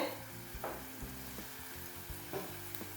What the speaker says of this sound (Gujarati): એને મિક્સ કરી અને એકથી બે મિનિટ માટે આપણે એને સાતળી લેવાનું છે